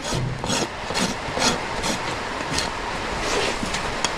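A rasp beveling the heel of a horse's hoof during trimming: a rhythmic series of coarse, rough filing strokes, close and fairly loud, roughly two per second.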